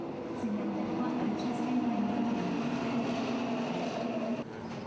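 Subway train heard from inside or at the platform, a steady low rumble and hum with faint squeals, continuous and moderately distant throughout.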